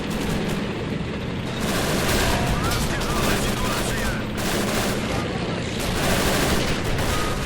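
Gunfire from a Men of War: Assault Squad 2 battle with a Russian tank charge on a fort, a dense nonstop wall of rifle and machine-gun fire mixed with distant booms, loud and continuous.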